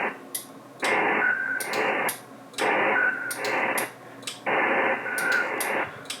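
A ham radio digital-mode signal tuned in on a FlexRadio sounds as three loud, buzzy data bursts about a second long each, separated by short gaps with faint hiss and scattered ticks.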